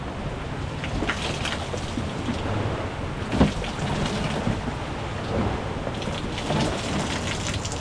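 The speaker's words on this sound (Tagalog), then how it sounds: "Basta malakas ang ulan" Steady heavy rain pours down in a continuous wash of broadband noise, with a brief louder splash or rumble midway and no voices.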